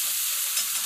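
Ginger, garlic and coriander paste frying with softened onion in oil, a brief steady hiss of sizzling, close and even, with no voices.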